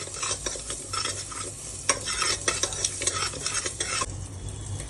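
Mung dal frying and being stirred in a pressure cooker, with a steady close sizzle and repeated scraping, clattering stirring strokes throughout, no talk.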